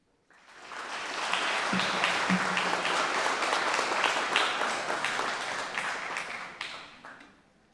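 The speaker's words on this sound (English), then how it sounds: "how about another round of applause here for all of our county commissioner candidates" An audience at a county Republican meet-the-candidates event applauds the county commissioner candidates, a full round of clapping that swells in, holds steady and fades out at the end, with a brief voice heard early.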